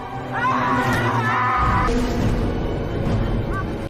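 Man screaming in terror while running in a village horror film, loud strained yells over a dense, noisy film soundtrack with a sudden rumbling shift midway.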